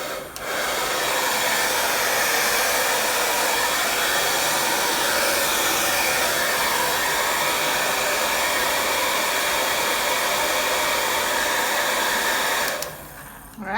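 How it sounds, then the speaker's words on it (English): A hair dryer drying acrylic paint on a sunset painting blows with a steady, loud airy roar that runs almost continuously before clicking off near the end. "you can get your hair dryer just for it to quickly dry"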